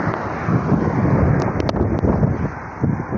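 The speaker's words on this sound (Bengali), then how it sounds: "প্রচুর বাতাস হইতেছে অনেক বাতাস" Strong wind roars and buffets the microphone continuously, a loud low rumble with gusty surges and no voices.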